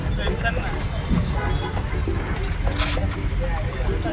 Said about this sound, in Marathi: आता गाडी माणगाव डेपोतून बाहेर पडलेली आहे.